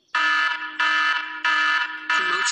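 Custom name ringtone song on a phone, a bright synthetic melodic tone pulsing in four repeated bursts, alarm-like and steady, with no voices.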